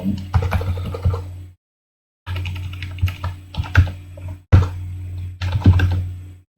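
Computer keyboard typing in quick bursts of clicking keystrokes, close and clear, separated by short silent pauses, with no voices.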